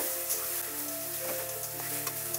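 Boiled black taro leaves with cumin powder are stirred in a frying pan, a close steady sizzle with soft stirring scrapes and a faint background hum.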